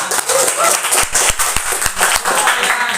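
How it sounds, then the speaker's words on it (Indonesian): Sharp hand claps ring out in a steady rhythm, about two per second, with a murmur of voices in the background. "Oke, ini supaya tepuk tangan dulu ya."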